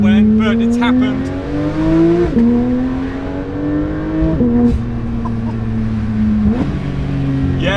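A Porsche GT3 sports car driving, its engine climbing steadily in pitch through each gear with three quick shifts, loud and close from inside the car, with someone talking over it.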